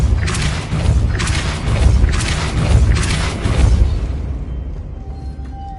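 A Depulso spell is cast in the video game Hogwarts Legacy, heard as a series of loud, rumbling, whooshing bursts at a steady rhythm, followed by quieter faint tones.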